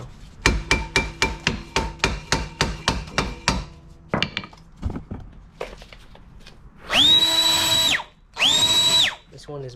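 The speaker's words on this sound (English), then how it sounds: "impact screwdriver" Impact screwdriver working on the rear wheel of a Chevrolet Spark, a rapid run of loud evenly spaced hammering blows, then scattered clanks and two sustained whining bursts near the end.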